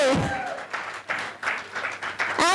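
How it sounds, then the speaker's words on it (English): Audience applause at a 1996-97 batch reunion of a Railway High School in Hubli, a crowd clapping in bursts that swell and fade across a couple of seconds, with a brief voice at the start and end. "I have to really put a big round of applause for this guy."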